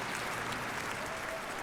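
Continuous crowd applause and cheering from the London 2012 video game, a steady dense wash of clapping during a building rally, with no speech.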